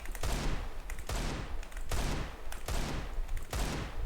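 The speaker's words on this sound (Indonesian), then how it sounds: "nanti coba di burst 3 peluru pakai handgun juga bisa" Handgun burst fire in Counter-Strike 2: five sharp bursts of gunshots spaced roughly evenly, each a loud crack with a short decaying tail, no talking.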